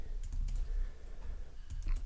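Steady typing on a computer keyboard, a run of soft, quick clicks at a moderate level over a low background hum, with no voice heard.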